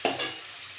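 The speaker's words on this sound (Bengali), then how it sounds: "ভালো করে মশলাটা ভেজে নেব," Spice masala with tomato frying in a pan gives a brief soft sizzle after a single scrape of stirring, faint and close, with no speech.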